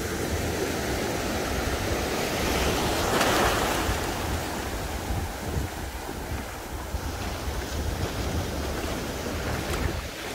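Ocean surf breaking steadily on the beach at Arambol, Goa, a continuous close roar of waves with wind buffeting the microphone and no one speaking.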